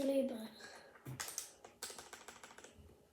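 Keys clatter on a mechanical keyboard fitted with MX Red switches, a quick uneven run of light clicks and thocks following a brief voice at the start.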